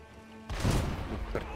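A single heavy shotgun blast from a video game booms up abruptly and rumbles briefly before fading into lighter follow-up noise, fairly close and loud.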